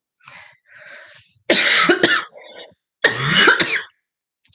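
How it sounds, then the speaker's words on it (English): A few harsh coughs close to the microphone, starting softer and building to two loud, rough bursts with short gaps between. "Sorry, not coughing again."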